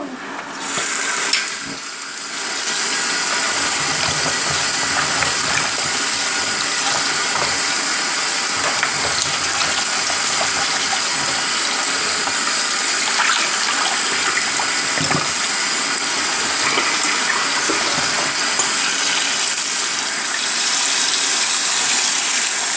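Running water used to rinse food for pumpkin soup, a steady broadband gush that starts after a brief quieter moment and holds at a constant level throughout, with no talking.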